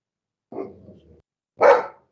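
Two short dog barks, a softer rough one followed by a louder, sharper bark after a brief pause.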